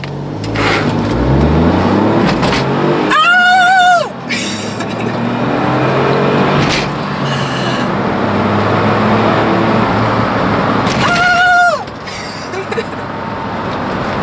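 A Smart Brabus turbo car on the road gives off a steady, loud engine and road rumble, broken twice by a brief rising whine as it accelerates.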